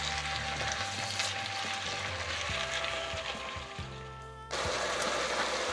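Fried rice with corn and vegetables sizzling in a pan over medium heat, a steady close frying hiss with a low hum underneath that drops briefly and then resumes, no voices.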